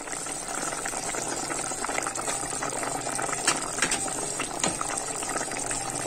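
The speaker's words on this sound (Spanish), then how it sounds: "Ahora vamos a echar la quinoa." Quinoa being added to a boiling chicken and potato stew, a steady close bubbling and simmering with small pops and splashes as the grain drops in, no voices heard.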